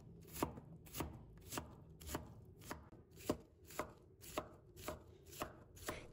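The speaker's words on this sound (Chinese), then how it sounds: "最后切成小碎丁" A knife dices onion into small pieces on a board, about ten steady, evenly spaced chops, close and crisp with no talking.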